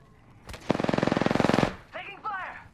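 Automatic gunfire in the Apex Legends battle royale game, a loud rapid burst of about twenty shots lasting roughly a second, followed by short game sound effects, with no speech over it.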